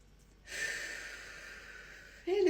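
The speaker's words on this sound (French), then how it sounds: "respirer, suivre tranquillement ta respiration et parfois l'accentuer un petit peu" Slow, deep meditative breath drawn in and let out over about two seconds, soft and close, with a sharper exhale at the end, alone without talk.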